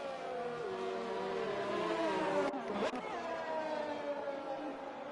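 A Ferrari F1 race car engine in a racing game screams at high revs with harmonic whine, rising and shifting, with a sharp gear-change dip midway, while commentary plays over it.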